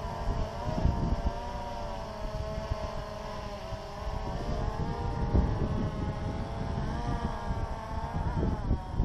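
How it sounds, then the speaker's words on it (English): Wind gusts buffet a microphone outdoors in a park, a continuous low rumble with irregular bursts, layered over a steady droning hum, and no voices. "It's too windy."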